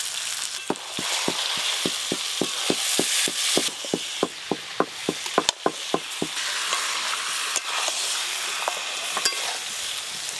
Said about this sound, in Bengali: এবার মশলা মাখিয়ে রাখা মাটন দিয়ে দেবো।